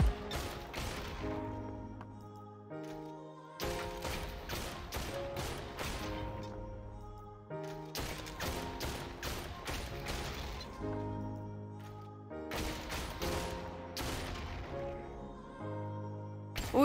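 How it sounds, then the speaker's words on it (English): MP5 submachine gun fire chews through a build in the VR shooter Population: One, coming in four evenly spaced loud bursts with harsh cracking impacts and short gaps of quieter mechanical sound between them. "MP5. It also takes 6 bullets no matter the star rating. The mag size is small and can break only from 3 to 5 builds."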